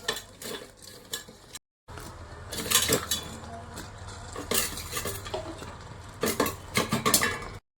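Fried paneer stirred into a pan of curry, scraping and clinking of a spoon against the pan in repeated bursts over a soft sizzle, close and fairly quiet, with a brief dropout near the start.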